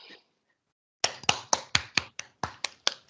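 Participants in an online user group meeting clap over their microphones, a run of about ten sharp, evenly spaced claps following a brief faint sound and a short silence.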